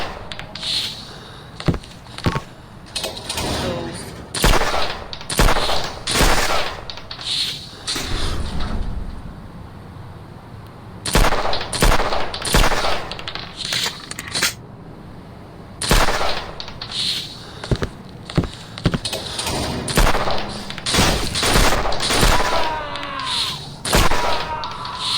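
Gunfire from a gun in the shooter game Sierra 7: sharp shots fired in rapid clusters and bursts, with brief pauses between volleys, loud and close.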